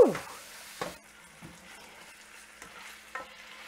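Ground meat browning in a pan for tacos, a quiet, soft sizzle broken by a few distinct spatula scrapes and knocks, close and otherwise without voices.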